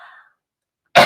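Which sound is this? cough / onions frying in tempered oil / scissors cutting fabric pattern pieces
cough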